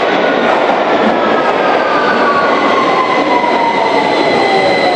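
A London Underground Victoria line train runs at speed: a loud, continuous rumble of wheels on rail with high, gliding squeals from the wheels throughout.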